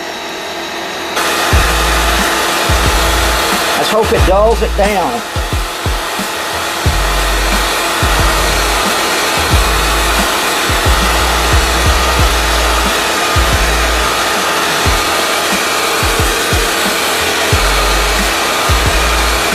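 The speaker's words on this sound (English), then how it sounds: "I'll take a hair dryer and dry it" A hair dryer drying a coating on an RC model army personnel transporter roars loudly and close by with a steady whine, cutting in and out several times; a voice speaks briefly near the start.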